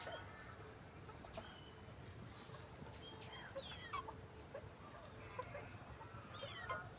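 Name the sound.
chickens clucking on a small farm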